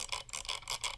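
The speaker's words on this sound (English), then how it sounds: "Scroll wheel." Scroll wheel of a Zowie ZA13-C gaming mouse rolled in quick succession, giving a faint, steady run of soft ratcheting ticks, about five per second, with no voices.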